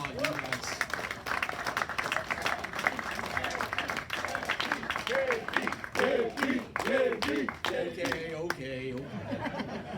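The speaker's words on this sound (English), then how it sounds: "I applaud you guys." At a 2021 SDMBBSC installation dinner, the audience gives moderate applause mixed with chuckles and laughter while voices talk over it.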